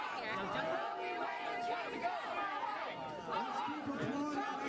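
Crowd at a March for Life rally in Washington filing in, dense overlapping chatter and murmuring voices with occasional laughter, close and continuous.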